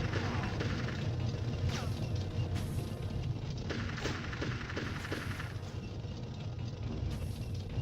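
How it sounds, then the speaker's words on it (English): Gunfire in the Army Men: Sarge's Heroes video game crackles as several sharp shots and impacts over a dense, rumbling background of battle noise, moderately loud throughout. "Somebody shot at me though."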